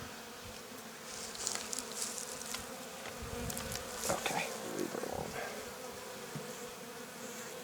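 Honey bees swarm around an open hive during a spring cleaning, a dense, steady buzzing close by that fills the whole clip, with a person speaking briefly underneath.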